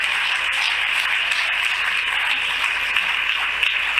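Steady, dense applause from a large church congregation, continuous clapping with no talking over it.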